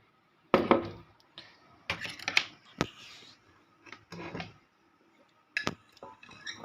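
Chopped onion, cucumber, tomato, carrot and chili are dropped into a bowl, making scattered clinks and light clattering knocks at irregular intervals, with quiet gaps between them.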